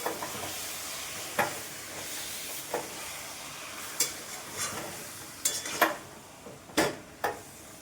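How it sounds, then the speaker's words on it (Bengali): Flowers sautéing with turmeric in a pan, a soft steady sizzle broken by scattered scrapes and clinks of a spoon stirring, close and fairly quiet with no voices. "ফুলটা কষানো হয়ে গেছে খানিক্ষণ এরকম করে নেড়ে নিলাম"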